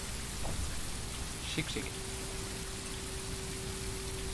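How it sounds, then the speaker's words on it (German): Steady rain on the windscreen of a bus in Tourist Bus Simulator, a constant soft hiss of drops throughout, with someone speaking briefly over it and a low engine hum. "Oder auch hier dieser Regen an der Scheibe."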